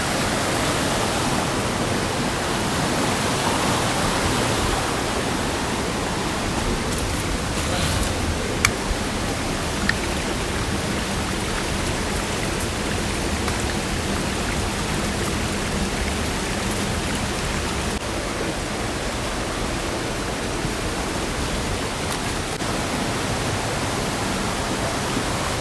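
A forest stream flows steadily and loudly in a dense, unbroken wash of rushing water that holds an even level throughout, with no voices.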